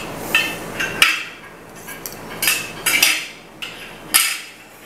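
Spoon hangers are fitted onto a dish rack, giving a handful of sharp metal-on-plastic clicks and clinks spaced irregularly, close and fairly crisp, with no talking.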